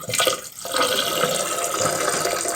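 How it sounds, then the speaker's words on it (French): Water gushes steadily from a bathroom sink tap with a newly fitted spout, loud and close, after a brief opening splash. "j'ouvre le robinet"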